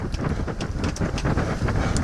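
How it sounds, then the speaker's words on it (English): Wind gusting steadily past a sailboat tacking in the Solent near Kings Quay Creek, a continuous rough buffeting roar on the microphone with no speech. "That's wind."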